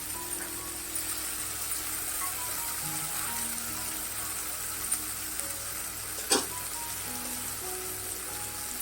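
Okra sizzles and fries steadily in a hot pan with turmeric and chili, a continuous crackling hiss with one sharp clatter partway through.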